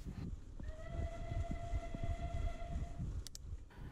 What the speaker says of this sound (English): listen carefully and you might be lucky enough to hear a passing steam train as it makes its way along the bottom of the valley